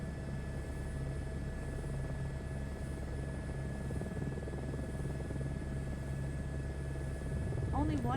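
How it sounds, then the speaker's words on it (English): A passenger helicopter flown with no trim in Microsoft Flight Simulator 2024 gives a loud continuous rotor chop and engine hum with a steady whine, and a voice speaks briefly over it near the end. "Welcome to the passenger helicopter with no trim."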